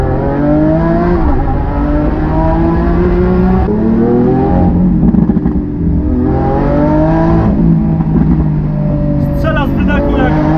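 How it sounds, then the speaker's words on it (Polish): A Lamborghini Aventador S Roadster revs hard, its engine rising and falling through repeated loud surges, with crackling exhaust pops and a person talking over it. "Strzela z wydechu"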